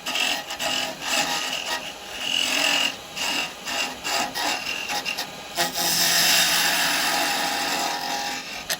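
A chisel scrapes and cuts into spinning wood on a lathe while turning a Christmas tree, giving a rasping, gritty hiss in repeated strokes that swell and ease, close up and with no talking.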